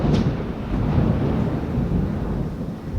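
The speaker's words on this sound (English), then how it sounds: "This thunder is trying to steal my thunder." Deep, rumbling thunder rolls steadily across the whole stretch, a low continuous roar with no voices present.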